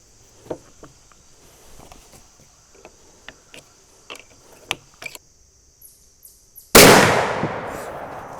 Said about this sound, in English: Next we're shooting the Powerbelt ELR 50 caliber.